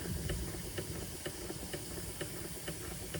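A Doll 387/3 model steam engine in a boiler house setup runs slowly, its even chuffing beats repeating about twice a second over a constant steam hiss, close and moderately loud.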